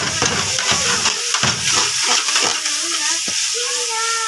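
Food cooking in ghee sizzles and hisses steadily up close while a utensil scrapes and stirs through the pan, and a voice speaks over it toward the end.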